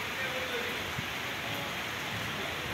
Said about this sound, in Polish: i zaczął padać deszcz